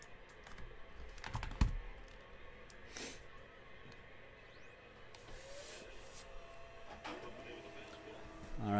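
A printer runs quietly, with a faint whirring feed and scattered clicks and taps. Voices and handling noises can be heard nearby.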